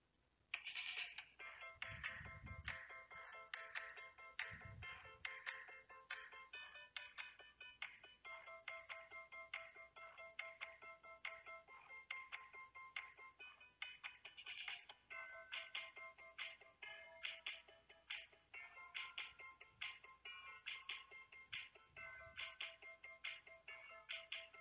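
Music played back in the room and captured by a HyperX Cloud II Pink headset microphone: a bright, steady melodic line with bell-like tones and a few low thumps, continuing throughout without any talking.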